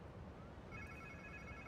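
Phone ringing in Marvel's Spider-Man 2, a quiet electronic ringtone that starts partway in with repeated high trilling tones over a low muffled background hum.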